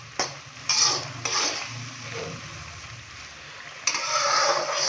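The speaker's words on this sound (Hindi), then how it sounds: "तो यहाँ पे हम टमाटरों को अच्छी तरह से फ्राई करेंगे" Tomatoes fry in a karahi while a utensil scrapes and stirs, giving a few sharp metallic knocks over a soft background sizzle, fairly quiet and close.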